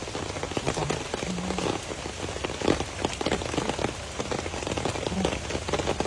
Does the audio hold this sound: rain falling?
yes